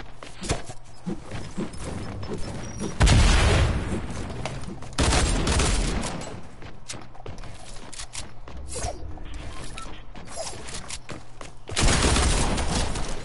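Video game gunfire, loud bursts of rapid shots recurring in several clusters over steady action noise, with no talk.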